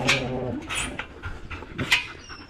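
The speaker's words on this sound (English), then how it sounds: "Down, you crazy dogs." Dogs at play whimper and give short yips and barks in bursts, close and moderately loud, with a few higher whines between them.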